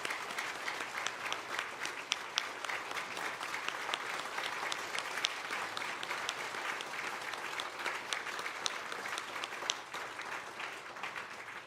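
A church congregation gives its retiring pastor a big round of applause during a New Year's afternoon worship service, a dense, sustained clapping from many hands heard at a moderate distance with no break.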